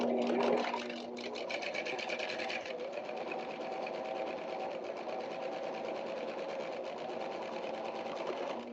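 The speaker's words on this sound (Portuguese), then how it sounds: "vou fazer a minha costura, vou simplesmente fechar ela" A sewing machine runs steadily while closing a seam, its rapid needle chatter continuous and close for the full stretch, with a brief slower start at the beginning.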